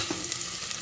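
Sliced onions fry in hot oil for egg biryani, a brief, even hiss of sizzling with faint crackles and no voices.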